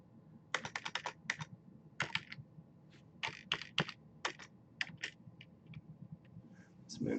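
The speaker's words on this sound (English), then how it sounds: "If I can type," Typing on a computer keyboard in a lecture setting, with quick clusters of close, crisp key clicks and short pauses between bursts, over a faint room hum.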